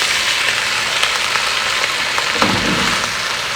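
Minced garlic and a pound of ground hamburger frying in a pan with softened potatoes, a loud, even, close sizzle that holds steady throughout with occasional light crackles.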